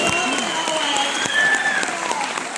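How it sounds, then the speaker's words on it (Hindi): Applause from a seated audience at a motivational gathering, a steady wash of many hands clapping close by, with a voice speaking over it. "ये देखो तालियां भी बजाई।"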